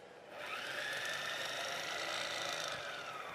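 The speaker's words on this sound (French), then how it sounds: "Je commence par mixer une première fois pour être sûr que" A pastry mixer whirring steadily as it blends dry ingredients including salt, sugar and yeast at a pastry show, a continuous close motor whine that starts abruptly and holds at an even level.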